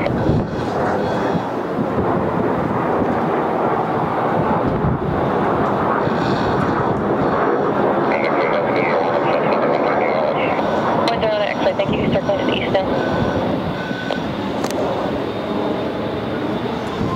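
Engines of a Boeing 747-8I on its first flight produce a loud, continuous roar mixed with buffeting wind noise on the microphone, and voices talk over it throughout.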